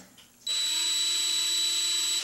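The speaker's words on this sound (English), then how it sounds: "Put it in my electric drill." An electric drill whirs to life after a brief quiet moment, spinning with a steady high-pitched whine close by until it cuts off.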